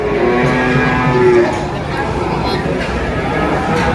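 Cattle low at Gerabak market in Magelang, Central Java, with a couple of drawn-out moos rising above a steady hubbub of market crowd chatter.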